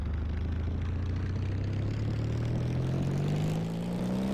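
An airship engine in Garry's Mod throttles up, giving a steady droning roar whose pitch climbs smoothly over a few seconds, loud and continuous.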